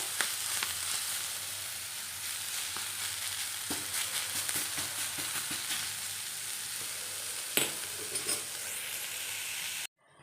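Fenugreek leaves roast with a little oil in a pan, a steady close sizzle with scattered stirring scrapes and crackles throughout, cutting off abruptly at the end.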